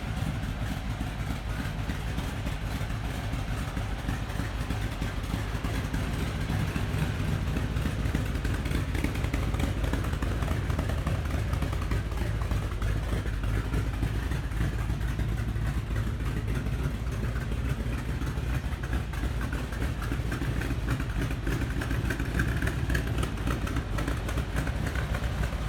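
A 1957 Chevy engine running at a steady idle, a dense continuous rumble heard close, unchanging for the full length, with no talk.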